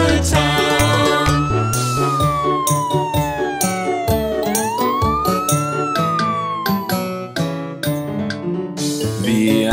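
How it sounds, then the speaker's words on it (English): A cartoon ambulance siren in a children's nursery rhyme, its rising and falling wail sweeping up and down over a bright, busy musical backing, clear and prominent for most of the stretch. "The ambulance siren goes wee oo wee."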